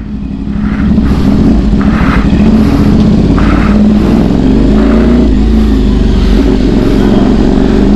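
A Motostrada motorcycle with an adjustable slipper clutch pulls hard in first gear, a loud continuous engine roar rising and shifting in pitch throughout, close to the microphone with no speech.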